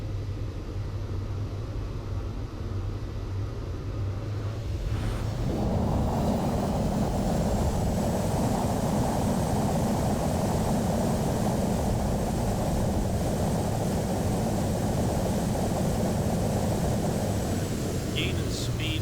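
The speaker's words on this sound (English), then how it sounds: "Putting our reverse thrusters here." Simulated airliner engines on landing in Microsoft Flight Simulator, a steady wash of engine noise that swells abruptly into a loud, broad roar as reverse thrust engages, then holds continuously.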